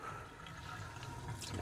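Water runs steadily from a kitchen sink tap as a TDS meter is rinsed, a continuous close splashing rush that swells slightly near the end, with no talk.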